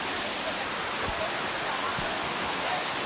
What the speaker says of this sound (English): And you can already hear the waterfall.